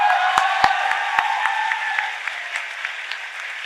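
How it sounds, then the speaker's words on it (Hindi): Applause from a mushaira audience at a Hindi-Urdu poetry recital, a steady wash of clapping with a few sharp close claps early on, fading slightly over a few seconds. "तालियां बजा के दिखाइए कितनी तालियां बनती हैं"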